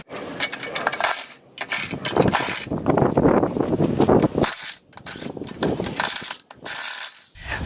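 A 10mm ratchet backs out the screws holding the recoil cover on a lawn mower, giving repeated close mechanical clicking and rattling bursts with brief pauses between them.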